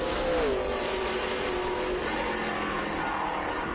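A Mercedes AMG GT3 race car at Road America runs at steady high revs, its engine note sliding downward as it passes, loud and continuous with no talk over it.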